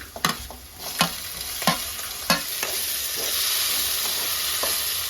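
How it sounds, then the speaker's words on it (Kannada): Tomatoes, added with beans, frying on high flame in a pan: a bright steady sizzle punctuated by a few spoon knocks early on, then an unbroken hiss, close and moderately loud. "ಎರಡು ನಿಮಿಷದವರೆಗೂ ಟೊಮೆಟೊ ಫ್ರೈ ಮಾಡ್ಕೊಂಡ ನಂತರ"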